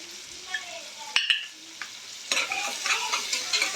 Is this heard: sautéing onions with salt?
yes